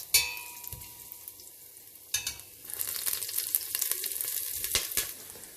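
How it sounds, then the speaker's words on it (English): Ginger and green chilies sauté in a pan over a low flame for a peas pulao, giving a soft, steady sizzle with a few stirring clinks and a short pause near the start. "now you saute it in low flame. Now you add the ginger and the green chilies"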